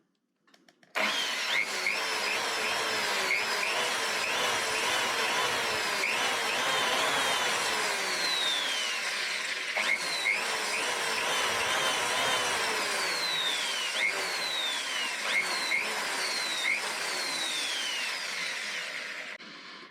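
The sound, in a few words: power drill drilling out WD hard drive screws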